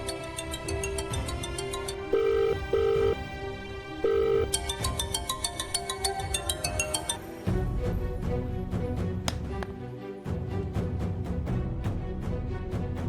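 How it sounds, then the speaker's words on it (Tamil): A phone's melodic ringtone plays in a Tamil TV drama scene, repeating its tune several times and ringing on loud and steady throughout with no talk. "கரிகால மாமா வேற போன் பண்ணுது."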